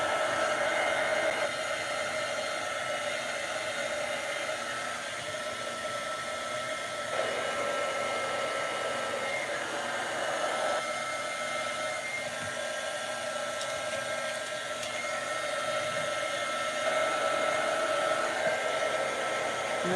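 A hot air blower heats stickers so they can be scraped off, giving a continuous, fairly loud rushing whoosh with slight shifts in pitch as it moves, running without pause and with no speech.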